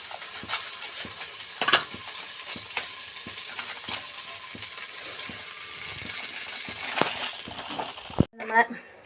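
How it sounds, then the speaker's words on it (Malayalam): Ghee sizzles steadily in a pan at the start of making biryani, a constant frying hiss with occasional stirring scrapes and clinks, ending in a few louder knocks. "ആദ്യത്തെ ഘട്ടം നമ്മൾ നെയ്യ് ചേർത്ത് കൊടുക്കുന്നുണ്ട്"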